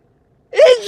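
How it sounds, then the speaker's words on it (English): A single close, loud sneeze bursts out after a moment of silence, sharp at onset and trailing off quickly, with no talking over it. "That's the second sneeze this morning."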